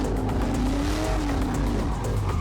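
A drifting car given too much throttle, engine straining loudly while the tires squeal in a rising and falling howl, close and continuous for a couple of seconds.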